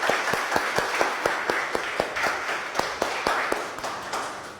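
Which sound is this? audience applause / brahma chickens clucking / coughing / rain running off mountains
audience applause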